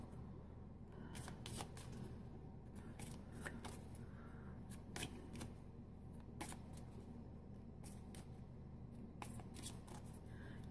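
Tarot cards being shuffled by hand close-up, a repeated series of brisk riffling bursts over a quiet background with no talking.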